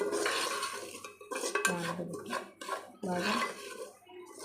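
Semolina roasts in a pan as a spoon scrapes and clinks against the metal in irregular bursts, fairly close and quiet, with a person speaking between the stirring.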